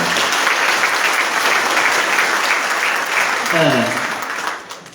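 Dense, steady applause from a large crowd at a council swearing-in ceremony, greeting the performing musicians; it holds loud for several seconds, a brief voice or tone cuts through near the end, then the clapping starts to fade.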